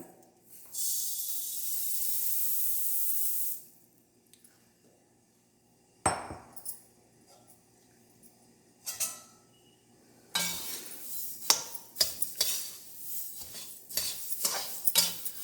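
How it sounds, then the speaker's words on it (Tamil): Coriander seeds dry-roasting in a large kadai, with sparse clinks and scraping stirs against the metal pan, plus a steady hiss early on and clustered rattles toward the end. "இப்போ இந்த மல்லியை வறுத்துக்கிறாங்க"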